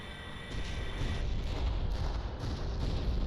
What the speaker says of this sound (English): You ever just want to shoot fascists with a giant laser cannon? Gunnery control, open fire.